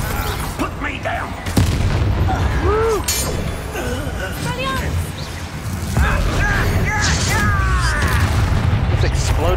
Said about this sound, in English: Just exploded that poor guy.